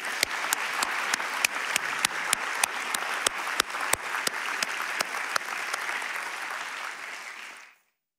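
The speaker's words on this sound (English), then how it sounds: "a round of applause" Dense applause from an audience fills the space, with a few sharp louder claps standing out, then cuts off abruptly near the end.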